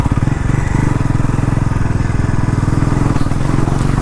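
A Bajaj Pulsar NS400Z motorcycle riding in third gear, its engine a loud, close, steady throbbing drone with a rapid pulsing beat throughout, without speech.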